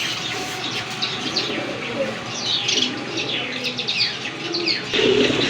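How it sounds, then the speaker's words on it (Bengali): A pair of red Golla pigeons, among other birds, gives soft coos and chirps with occasional wing flutters, close by and moderately loud, while people talk in the background. "আরেক জোড়া লাল গোল্লা কবুতর"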